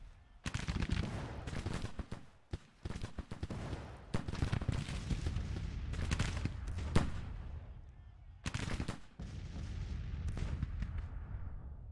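Musket fire in the American Civil War video game Grand Tactician: The Civil War, dense crackling volleys and irregular shots rolling almost continuously, with heavy booms and brief gaps, voices faintly present underneath.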